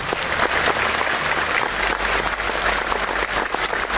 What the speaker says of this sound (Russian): Давайте приветствовать друг друга громкими аплодисментами!